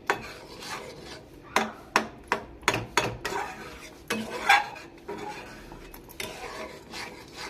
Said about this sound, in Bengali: এই যে দেখুন এইভাবে আমগুলোকে গলিয়ে নিতে হবে।